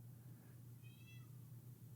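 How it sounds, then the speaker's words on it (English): A cat cries in front of a door with a single short, faint meow over a steady low indoor hum, heard alone without talk. "distracted by a cat crying in front of the door"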